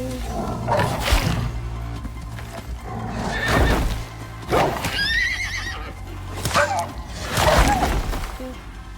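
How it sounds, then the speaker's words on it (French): A horse in a farming video game neighs loudly several times when attacked, shrill whinnies recurring every couple of seconds over hoof clip-clops and a steady low game hum. "J'attaque mon cheval, ça fonctionne pas."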